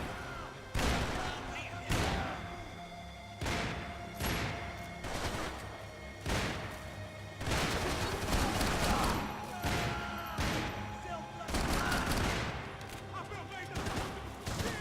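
Repeated gunshots and bursts of fire in the Max Payne 3 video game, sharp close reports spaced irregularly over the whole stretch with denser volleys midway, under shouted voices and game sounds.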